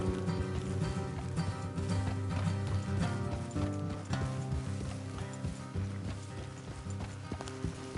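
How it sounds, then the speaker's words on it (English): Horses' hooves clip-clopping in a PS4 video game, a quick repeating patter of hoofbeats over a dense, steady bed of game music and ambience, moderately loud and continuous. "Let's leave the horses here and go the rest on foot."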